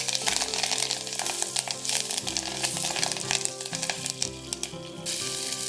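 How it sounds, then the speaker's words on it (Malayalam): Curry leaves drop into hot oil for a rasam and set off a loud, crackling sizzle. Dense pops and spits carry on steadily throughout, then ease slightly near the end. "ഇനി ഇതിലേക്ക് കറിവേപ്പില ഇടാം."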